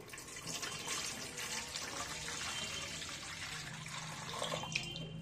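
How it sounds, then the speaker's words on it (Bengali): Water is poured into a pot set up for steaming puli pitha, a Bengali dumpling. It makes a soft, continuous splashing and trickling sound at a steady low level with no voices. "জলটা দিয়ে দিচ্ছি"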